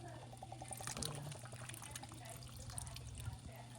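Coconut milk pouring into a cooking pot for ginataang langka, a steady liquid wash running continuously under a low kitchen hum, close and moderately loud throughout.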